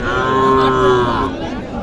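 A native bull calf at a rural cattle market in Naogaon moos once in a long, clear, close call that fades after about a second, leaving a low market hubbub.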